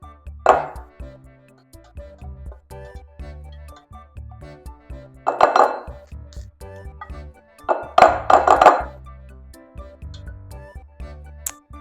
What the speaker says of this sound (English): I'm going to actually use a spatula to make sure I get all of this milk mixture in